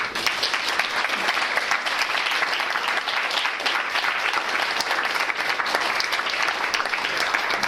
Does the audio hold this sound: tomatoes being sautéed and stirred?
no